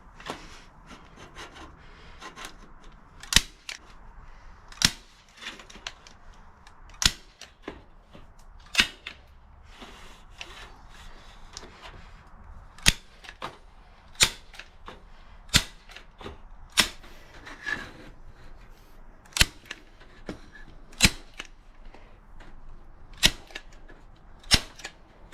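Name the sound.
staple gun stapling down soil sifter screen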